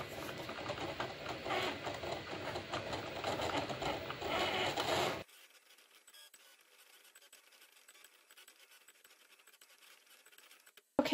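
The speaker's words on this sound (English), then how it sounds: "I have my holographic vinyl loaded, and we're gonna go ahead and start the cut." Cricut cutting machine slicing holographic vinyl, a steady mechanical whir and scratchy patter running continuously for about five seconds, then stopping abruptly into near silence.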